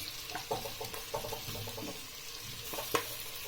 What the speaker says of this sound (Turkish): 2 dakikada kapya biberimizle kavurduktan sonra şimdi domatesini ilave ediyoruz